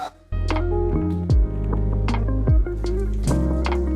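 Cold water splashes and pours during an outdoor bath on a village house terrace, with steady wet sloshing and a few brief squishy bursts close by.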